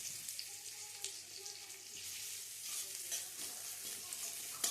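Chopped onion sizzling steadily in hot oil with dried red chilli and bay leaf, a soft continuous hiss with occasional light stirring scrapes.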